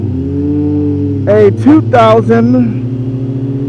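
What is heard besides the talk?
2004 Kawasaki ZZR 1200 motorcycle engine riding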